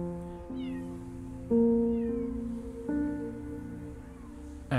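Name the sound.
cat meowing in the Copycat video game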